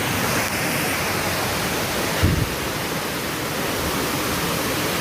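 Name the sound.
Orekkar waterfall in the forest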